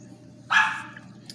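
A single sharp dog bark sounds once at medium distance over a low steady background hum, in a postapocalyptic cowboy thriller.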